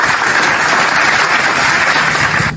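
Dense, steady applause fills the whole stretch, loud and close, like many hands clapping at once rather than a single person.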